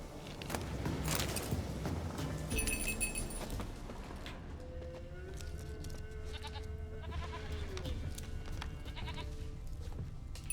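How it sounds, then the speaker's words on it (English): Goat bleating in the open-world video game The Witcher 3, several short wavering bleats over a continuous low game ambience with faint footsteps and jingling. "I hear a goat."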